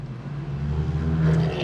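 A mini centrifuge spinning down PCR master mix gives a steady close motor whir with a low hum that swells slightly near the end, with no voices.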